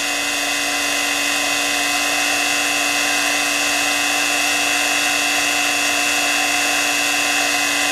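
A replica Ukrainian generator-motor spins at around 8,600 RPM under a resistor load, giving a loud, steady high-pitched whine with a constant hum and no change in speed.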